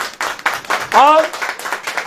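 A church congregation claps harder at a preacher's urging, a dense, steady patter of many hands with a singing voice rising over it partway through.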